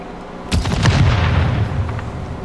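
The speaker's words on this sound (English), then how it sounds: "I heard explosion." Explosion during a squad round of a Plunder video-game match: a sudden heavy boom followed by crackling, rumbling debris that slowly fades over a couple of seconds.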